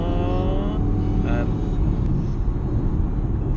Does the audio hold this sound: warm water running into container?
no